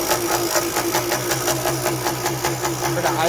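A two-stroke motorized bicycle engine running on E85 idles loud and close, with a fast, even, rattly putter that holds steady throughout.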